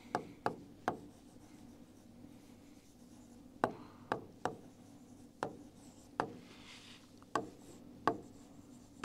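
Lecture notes are handwritten in quick bursts, with sharp, close taps and short strokes coming in clusters separated by pauses, fairly faint overall and with no talking.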